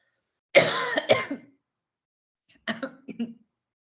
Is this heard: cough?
yes